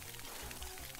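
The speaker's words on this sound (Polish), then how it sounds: "Coś dźwięki się zbugowały, bo strasznie woda głośna jest." Loud, steady rush of splashing water from the video game Penny's Big Breakaway, continuous and close throughout the brief moment.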